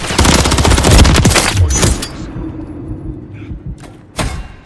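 Rapid automatic gunfire rattles loud and close in Modern Warfare 3 on the Estate map, a dense burst of shots for about two seconds, then quieter ambience and a single sharp report near the end.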